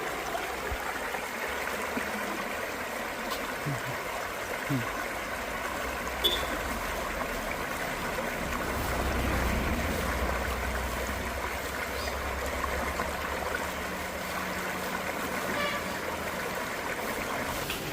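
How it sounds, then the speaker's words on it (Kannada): A small stream running through a coffee estate near a highway between Madikeri and Kushalnagar, giving a steady, even flowing and trickling wash of water throughout, with a slight swell of low rumble near the middle. "ಇದೊಂದು ಸಣ್ಣ ಹೊಳೆ ತೋಟದ ಒಳಗಡೆ ಹರಿತಾ ಇರೋದು"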